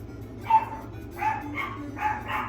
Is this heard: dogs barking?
yes